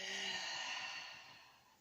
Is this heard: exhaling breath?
yes